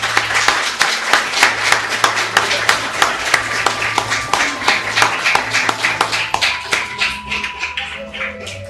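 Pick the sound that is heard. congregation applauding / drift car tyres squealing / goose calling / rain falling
congregation applauding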